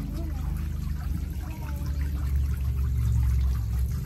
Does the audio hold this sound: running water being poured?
yes